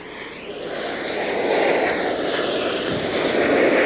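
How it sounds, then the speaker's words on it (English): Engines of a Northwest Orient airliner roar steadily at an international airport in 1988, a loud, continuous broad rumble that swells slightly as it goes on, with no talking. "The roar of the engines is deafening here at International Airport."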